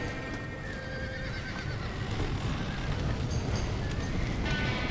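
A horse in the video game Red Dead Redemption whinnies loudly over a busy, rumbling background with hoofbeats clip-clopping underneath, no speech.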